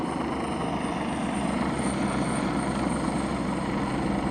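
A helicopter flies near Aberdeen airport, giving off a steady, fairly faint rotor and engine drone that holds evenly throughout with no talking.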